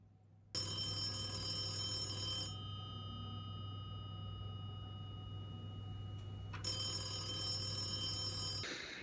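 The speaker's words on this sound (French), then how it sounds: "Nous allons tenter d'avoir Lionel Mini au téléphone depuis Gabon" A telephone line rings out for a call to Gabon: two long electronic ring bursts separated by a quiet pause, with a steady low hum running underneath.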